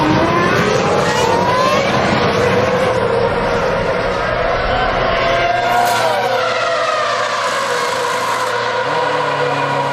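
Formula One cars race at the 2007 Bahrain Grand Prix, a dense loud roar of high-revving engines with a car sweeping past and pitch shifts as it goes.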